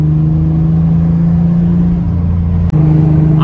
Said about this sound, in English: We're able to give the car a little bit more.